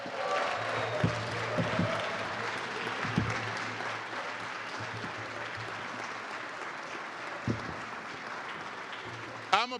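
A crowd applauds students at a topping-off ceremony for a university academic building, steady clapping that fills the whole stretch, with a few louder claps standing out near the front.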